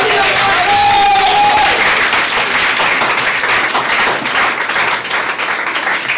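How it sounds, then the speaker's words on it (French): Church congregation applauding and cheering, dense clapping from a crowd filling the room throughout, with voices mixed into the noise. "On acclame le Seigneur."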